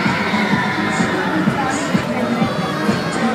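A large crowd at the León state fair roars and shouts together in a sustained, loud wall of voices.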